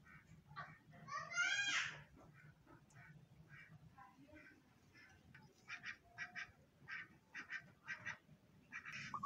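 Crossbred ducks quack nearby, a loud burst of calls early on, then rapid, repeated quacks that come in clusters against a quiet rural background with faint low rumble.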